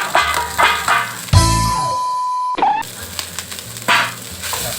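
Rice mixed with roasted chili paste stir-fried in a hot pan for grilled-fish fried rice, loud sizzling bursts and scraping stirs, with one sustained hissing surge, up close and without talk.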